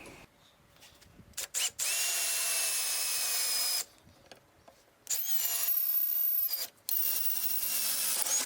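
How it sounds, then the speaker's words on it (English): Power drill boring holes for a Suzuki DR650 fender brace, several high whining bursts of a few seconds each separated by short pauses, close and fairly loud. "Drill a couple more holes across"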